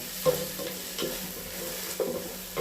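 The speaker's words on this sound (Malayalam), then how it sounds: "ഒരു ലേശം മുളക് ഇതിലൊന്നിട്ട് വറുത്താട്ടെ" Chilli frying in a pan with chicken cooking, a close, steady sizzle broken by repeated scraping stirs of a spoon at roughly regular intervals.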